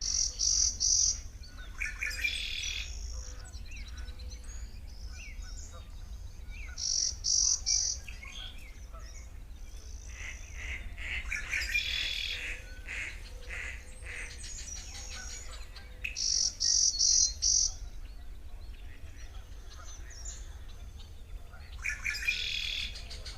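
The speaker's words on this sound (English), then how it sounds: "hopefully you identified some of those birds" Several birds sing and chirp in bursts on a recording, high-pitched trills recurring every few seconds over a quiet background hum.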